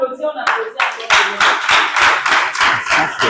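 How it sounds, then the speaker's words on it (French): A school audience at Notre Dame de la Riviera Palmeraie in Abidjan breaks into brisk, close hand clapping that starts after a brief moment of talk and continues in a steady patter. "Bravo, hein. On applaudit."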